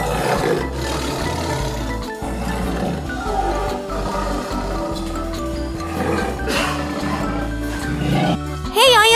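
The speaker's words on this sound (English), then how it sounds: "Hey, I am a tiger. Tiger." A tiger roars in a loud, sustained, rumbling burst that repeats over the clip, set against steady background music in a children's animal-names learning piece.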